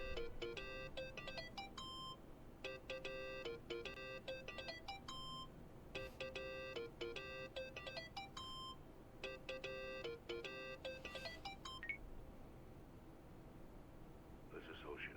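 A phone rings in the Yakuza video game, repeated bursts of bright electronic trilling tones in a steady pattern, fairly quiet over a low background murmur.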